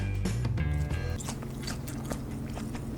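Crispy food fresh from an air fryer bitten and chewed up close, with a few sharp crunchy bites followed by steady, moist chewing that carries on throughout, no voices.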